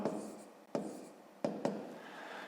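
A pen or pencil writes out a long division calculation on paper, making close, quiet scratching strokes with a few sharper taps, heard alone without talk.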